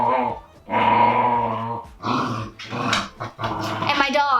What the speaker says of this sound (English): And my dogs are apparently excited to have you along as well.